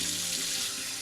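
A finicky tap pours lukewarm water into a laundry tub, a steady close rushing hiss with no other sounds.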